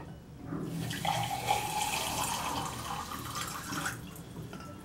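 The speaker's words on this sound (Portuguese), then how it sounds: "E agora vamos pegar a água da torneira." Steady stream of water running from a tap, a continuous close splashing hiss that starts and stops abruptly.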